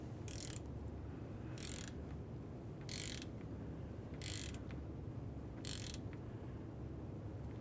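A ratchet tightens the AC condenser mounting bolt on a 2012-2018 Nissan Altima 2.5L, with five short, evenly spaced bursts of clicking over a steady low background hum, no talking.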